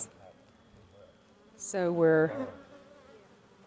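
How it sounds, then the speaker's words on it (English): Honey bees hum in an opened hive box during an early-March hive split, a faint, steady drone that a person briefly talks over. "we have bees, bees, bees in the top box, and bees, bees, bees, bees in the bottom box."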